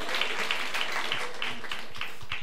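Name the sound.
audience applause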